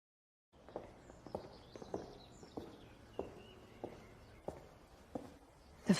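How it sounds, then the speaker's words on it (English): Footsteps on a hard floor, a dozen or so evenly paced steps close by, each a crisp knock, with faint background ambience and no talking. "just let me listen to your footsteps."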